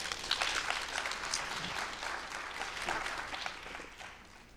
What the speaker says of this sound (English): please give a big applause for Howard